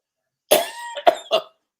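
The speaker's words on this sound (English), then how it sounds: "Pardon my coughing." A person coughs three times in quick succession, one harsh cough followed by two shorter ones, close and clear against silence, from someone recovering from a blood clot and fluid in the heart and lungs.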